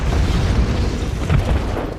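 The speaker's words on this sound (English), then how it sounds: "they fire an RPG at the trailer" A trailer explodes after being hit by an RPG in a film scene: a loud, sustained rumbling blast with heavy low roar and crackle filling the whole moment, no voices.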